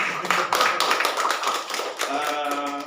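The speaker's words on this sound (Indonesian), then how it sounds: "Berikan tepuk tangan buat kami." Audience applause at a kindergarten parenting gathering for fathers, a dense spread of hand claps filling the room, with voices talking over it toward the end.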